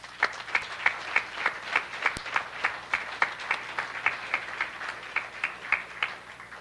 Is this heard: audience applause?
yes